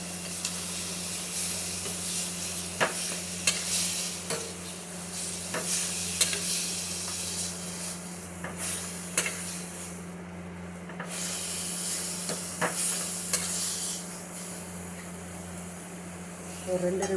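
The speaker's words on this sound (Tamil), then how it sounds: "தக்காளி வதங்கிருச்சான்னு பார்ப்போம்." Tomatoes sauté in a pan for a meal maker gravy, with a steady close sizzle and hiss broken by occasional scraping stir strokes throughout.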